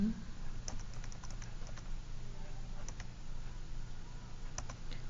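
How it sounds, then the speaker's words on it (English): Keys tapped on a calculator or computer keyboard, a few scattered quiet clicks over a low steady hum, faint and close, with no talk. "We can simply type in 4 over 3 and it's going to simplify it."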